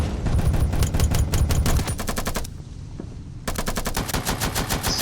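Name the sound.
shotgun firing in a video game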